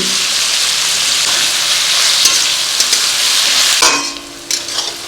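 Onions with sugar, cardamom and cinnamon fry loudly in a pan for mutton curry, a dense, bright, rain-like sizzle that is steady and close, broken near the end by a stirring scrape and a drop in volume.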